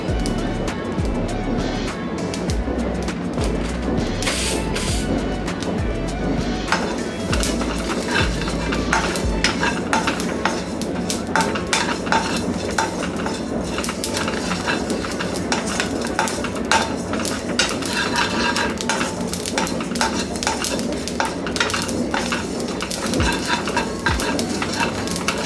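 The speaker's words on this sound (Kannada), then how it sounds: "ಈಗ 1 ಸ್ಪೂನು ಜೀರಿಗೆ ಚಿಟಪಟ ಅಂತ ಆಗೋ ತನಕ ಇದನ್ನು ಹುರ್ಕೊಳ್ಳೋಣ." Cumin seeds splutter and crackle in hot oil for sesame rice, a dense, close, continuous frying crackle with scattered sharp pops and utensil clinks.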